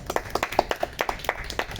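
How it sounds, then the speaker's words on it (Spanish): A small audience applauds a guest with a brief run of separate, fairly quick claps from a few people, close and moderately loud, with no talking over it. "Un aplauso, chicos, por favor, para el doctor."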